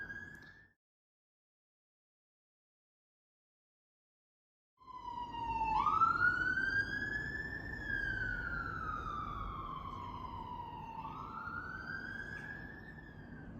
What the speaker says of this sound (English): sorry about the sirens, I switched you off there.